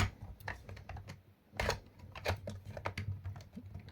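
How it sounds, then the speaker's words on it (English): Plastic parts of a Talon-based foam dart blaster being fitted together by hand, a series of soft, irregular clicks and taps, faint and close, with low background hum. "Click this in and boom."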